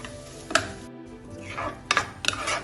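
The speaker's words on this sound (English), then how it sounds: "now I'm going to add the crab meat and I'm going to stir and cook it till 2 to 3 minutes" Crab meat is stirred and cooked in a pan, with a few distinct metallic clinks and scrapes of a utensil against the pan over a low steady background.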